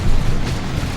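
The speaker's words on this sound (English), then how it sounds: "exploding in a nice green explosion." A unit blowing up in a green explosion during a Warhammer real-time strategy battle, heard as a dense low rumbling boom that sustains for about a second at steady loudness.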